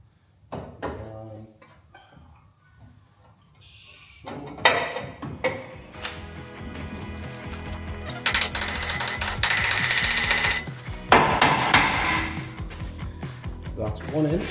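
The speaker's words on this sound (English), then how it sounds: "I'm going to slide this leg in first." A chassis leg is fitted onto a fire-damaged BMW G82 M4 Competition during a rebuild, with loud metallic clunks, knocks and scraping bursts close by and speech around them.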